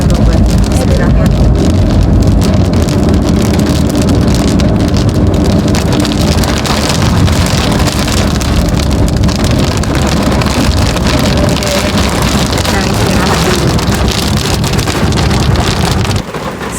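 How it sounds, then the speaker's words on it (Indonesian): Heavy rain pours down at a highway rest stop during a long holiday homecoming drive, a loud, dense, unbroken downpour that fills the whole stretch before cutting off abruptly at the end. "Ini hujan yang sebenarnya"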